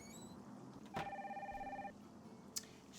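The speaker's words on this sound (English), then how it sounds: "That phone is driving me crazy" A telephone in the Nancy Drew: Danger By Design game rings with one clear electronic trill lasting about a second, followed by a brief faint chirp, heard alone with no talk.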